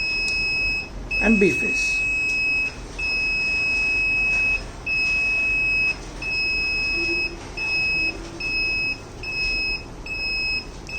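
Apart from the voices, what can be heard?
fault alert buzzer beeping on transmission line circuit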